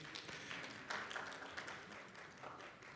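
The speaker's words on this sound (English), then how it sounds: "If we can have a round of applause for Mario" Audience applause for Mario at a real estate award event, with scattered, fairly faint clapping from a crowd that stays steady throughout.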